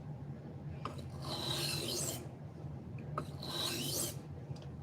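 A knife blade is sanded with 400-grit abrasive in two long, even rasping strokes, each a smooth swelling scrape close by with a brief pause between, in an otherwise quiet workshop.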